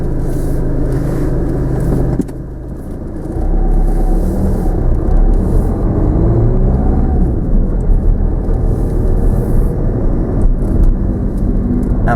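A car engine turns over and settles into a steady, close rumbling idle inside the cabin during a driving lesson, with a brief dip before it picks up again.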